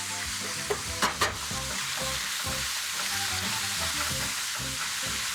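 Shrimp frying in a pan for pad thai make a loud, continuous sizzle close by, with a few sharp clanks of a utensil near the start and steady crackling throughout, no talking.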